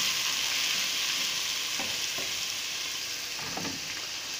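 Horse gram stir-fry sizzles steadily in a pan while being stirred, with a few soft scraping strokes of the spoon rising above the constant frying hiss.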